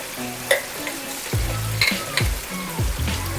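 Indonesian shallot chili sauce, sambal bawang, frying with salt, sugar, MSG and shrimp paste, crackling steadily while a spatula scrapes and stirs in a few distinct strokes, close up and without talk.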